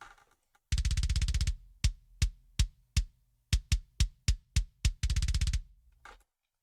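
A solo kick drum through an SSL channel strip, punchy and close, hitting in a short pattern of single thumps between longer sustained bursts, tight with little room sound.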